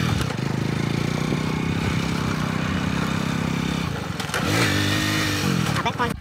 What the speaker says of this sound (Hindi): स्पेशल शिवांग भाई आए हमको लेने के लिए बाइक में, और हम बैठ गए।